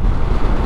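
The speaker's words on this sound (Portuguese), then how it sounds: "Aqui tá ventando também, ó." Strong wind buffets the microphone in a loud, continuous roar, a brief blast with no other sounds.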